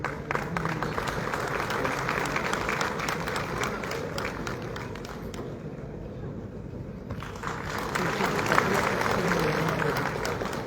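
An audience at an Urdu academy award ceremony keeps up long, dense applause honouring the creators, a steady wash of many hands with a short dip partway before it swells again, and voices mixed in.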